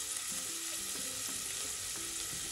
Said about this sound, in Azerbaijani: Soğanları birazcık qızardıram.